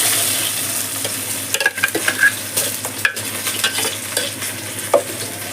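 Tempering for stuffed brinjal gravy fries in a pan, a soft steady sizzle broken by clinks and scrapes of a stirring spoon, close and without voices.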